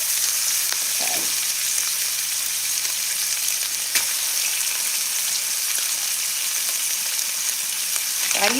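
Pork chops fry in a pan with a steady, loud, close sizzle that holds constant throughout, with occasional faint pops and clinks over the crackle.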